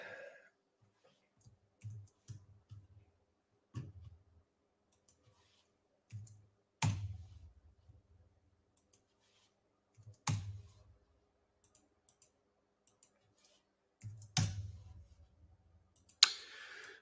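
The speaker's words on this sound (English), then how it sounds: "so there it is, clicking on my homepage link" Computer mouse clicks while browsing a stock-trading website: sparse, close, quiet clicks, some single and some in quick pairs, scattered over a near-silent background with no talking.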